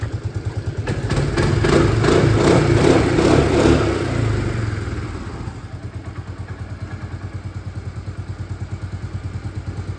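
A 2002 Suzuki Burgman 400 scooter engine is revved up close, holding a louder throbbing drone for a few seconds before it drops back to a steady, rhythmic idle.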